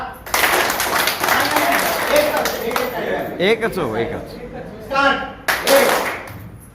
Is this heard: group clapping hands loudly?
yes